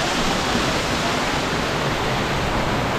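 The Rock Garden waterfall in Darjeeling roars as a loud, continuous broadband rush of falling water, steady and close with no other sound standing out.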